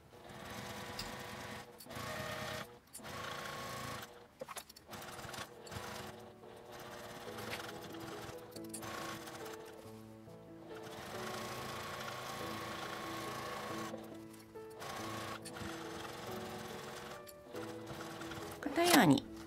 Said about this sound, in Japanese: 周りを5ミリの縫い代で縫います。